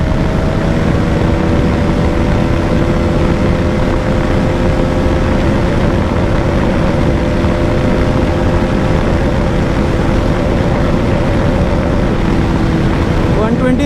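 A 2020 Bajaj Dominar 250 motorcycle engine drones loud and close while accelerating in fourth gear at speed, with a steady, slowly climbing whine mixed with heavy wind rush, and a voice talks over it.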